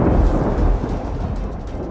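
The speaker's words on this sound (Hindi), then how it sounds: "अच्छा है बारिश हो रही है" Low rumbling thunder rolls continuously with steady rain hiss, loud and close, building in the first moment then settling into a sustained roar.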